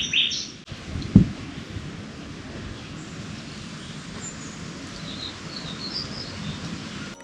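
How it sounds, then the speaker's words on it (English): Birds singing in the jungle near Sayulita, Mexico, faint scattered chirps and high calls over a soft steady background hiss, with a single thump early on. "Walking along the jungle was incredibly peaceful as we listened to the birds singing."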